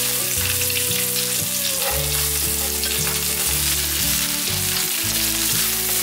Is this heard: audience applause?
no